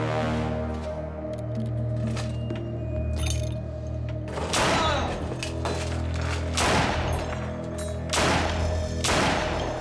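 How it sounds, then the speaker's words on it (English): Four gunshots in a dramatized crime reenactment of a woman shooting her husband, heard as loud repeated bursts over a droning musical score, each crack spaced about a second or two apart. "pumps 4 shots into the back of her 60-year-old husband"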